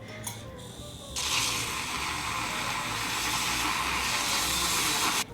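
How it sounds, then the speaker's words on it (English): A milk frother whirs steadily for about four seconds as it froths homemade bone broth, a bright even buzzing hiss that starts abruptly and cuts off cleanly, preceded by a brief faint rustle. "I usually just take care of that by using a milk frother to make a kind of a bone broth latte"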